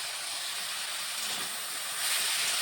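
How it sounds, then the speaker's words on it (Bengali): Coriander leaves frying together with mustard flowers in a pan, a steady close hiss of sizzling that swells slightly louder toward the end, with no talking. "ধনে পাতাগুলি এর সাথে ভেজে নিচ্ছি"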